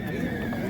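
A horse neighs at a horse market in Nookat, a single sustained whinny heard up close and loud, with a faint clip-clop under it.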